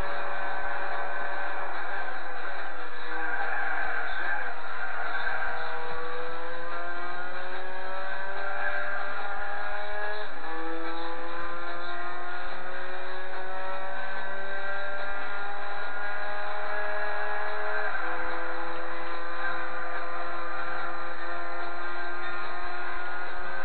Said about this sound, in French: j'enclenche un nitro pour qu'elle aille plus vite